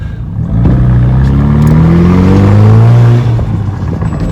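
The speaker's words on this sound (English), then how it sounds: "You hear that turbo flutter?" A car engine revs hard close by, its pitch climbing in a smooth sweep over a few seconds before dropping off, with a fluttering turbo whir riding on top.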